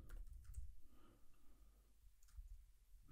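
A password is typed on a computer keyboard: soft, quiet clicking keystrokes in an irregular patter, faint and close, with a few sharper taps standing out.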